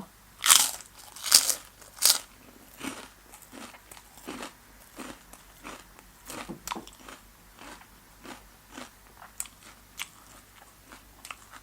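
Crispy pork rinds are bitten and chewed close up during a meal of papaya salad, with several loud sharp crunches at first, then a long run of softer, irregular crackling chews.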